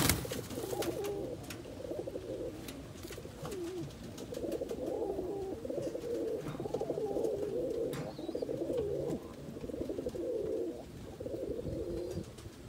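A pair of yellow/red reverse wing pouter pigeons coo in low, rolling, continuous murmurs, close and steady throughout with no talking.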